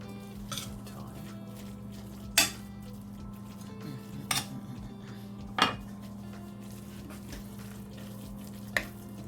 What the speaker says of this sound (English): you're just gonna mix it up in the pot